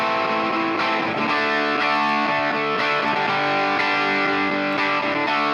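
Electric guitar loop with an added distortion-type effect, a steady loud sustained stream of chords played on its own without talking.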